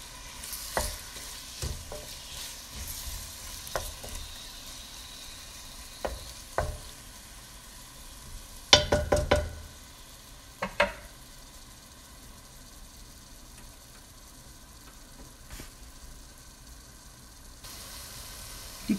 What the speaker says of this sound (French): Et je vais les laisser frire.